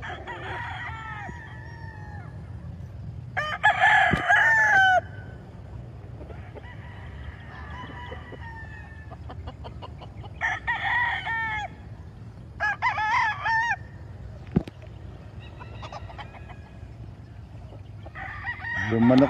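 Chickens cluck and roosters crow repeatedly nearby, the calls overlapping in uneven bursts over a low background hum.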